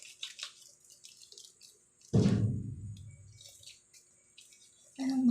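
Lukewarm water from a tap gushes into a bathroom sink for rinsing during a skincare routine. It starts suddenly, is loud at first and then tapers off, with faint handling noises before it and a short burst of water near the end.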